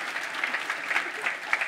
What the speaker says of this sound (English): Give them a round of applause if you would.